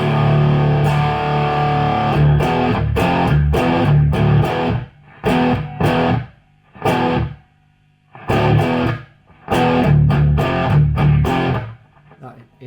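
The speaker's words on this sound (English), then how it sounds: "really tight distortion" An electric guitar plays chugging, tightly muted riffs through a hand-wired Burman Pro 501 boutique combo amplifier with heavy distortion, loud and close, in choppy bursts separated by brief silences.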